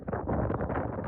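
Wind gusts buffet the microphone at a hilltop tower viewpoint on Hosahalli hill, a loud, steady rush of roaring noise lasting about a second with no speech.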